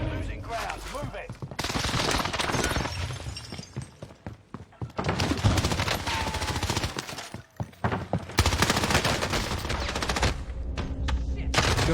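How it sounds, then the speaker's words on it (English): Video game gunfire and explosions during a precision airstrike, dense bursts of automatic fire with heavy blasts and crashes, loud and continuous, with a game voice briefly heard. "Allied precision airstrike incoming"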